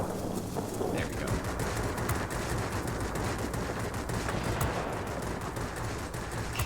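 Machine gun fire from the F5F fighter plane in World of Warplanes: a dense, continuous rattling burst with a roaring engine and wind wash, loud and sustained throughout, with no talking.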